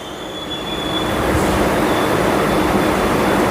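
Passenger train on a short suburban route in Howrah, running steadily near Belur Math station, with a loud continuous rumble of wheels and carriage noise, a faint squeal and a steady whistle-like tone, swelling slightly and staying close throughout.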